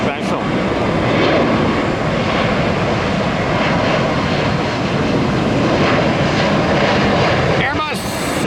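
Airbus A321neo airliner engines at an airport, a steady loud roar lasting throughout with a broad rumbling drone, slightly swelling and fading, heard alone without voices.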